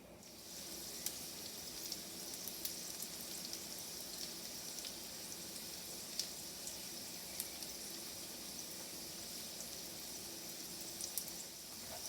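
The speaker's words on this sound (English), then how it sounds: "you're going to just brown the bottom of the tortellini for about 2 to 3 minutes without stirring it" Tortellini browns in a pan with a soft, even sizzle that continues unbroken, fairly quiet and close, with occasional tiny pops over the steady hiss.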